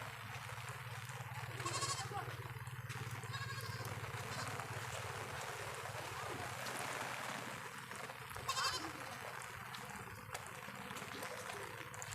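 Goats give two short, wavering bleats some distance away, one early and one late, over a steady hiss of light rain in a Sundarbans village.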